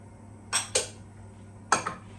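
Granulated sugar and soft brown sugar tipped into a mixing bowl for chocolate chip cookies, giving three short rustling, clinking pours close by in a quiet kitchen.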